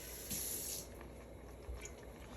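Running water from a kitchen tap rinsing hominy corn, a steady hissing stream with a brief louder splash near the start, close and unaccompanied by speech.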